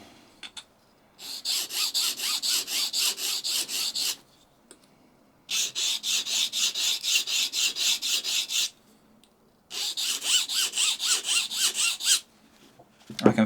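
A kitchen knife being turned into a marking knife is stroked back and forth on an 800 grit sharpening stone, three close runs of quick, rhythmic scraping passes separated by short pauses.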